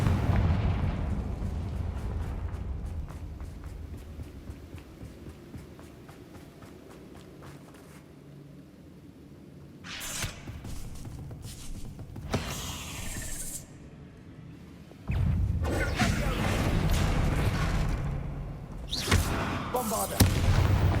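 Confringo fire spell blasts in the Hogwarts Legacy video game come as a series of loud, booming explosions with crackling bursts over a rumbling game soundscape, growing denser and heavier toward the end.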